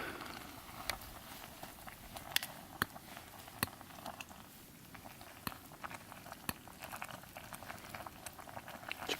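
A small pot of water boils for ramen at a backpacking campsite in a wilderness area, a quiet continuous bubbling with scattered soft pops and ticks, close but faint.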